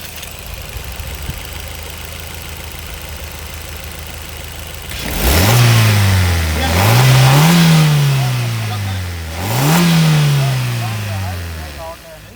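Maruti Brezza ZXi+ petrol engine idles quietly, then is revved three times in quick succession, each rise and fall clearly audible up close, with someone talking faintly underneath.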